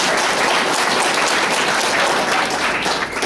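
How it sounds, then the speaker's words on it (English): Audience applause at an Alabama gun rights meeting, a dense steady wash of many hands clapping together for about three seconds, loud and continuous before easing slightly at the end. "They're clapping for you because you did such a good job."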